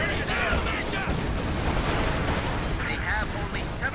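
MG34 machine gun fire in Company of Heroes 2 rattles under continuous battle noise and distant artillery, steady and dense throughout, with a commentator talking over it.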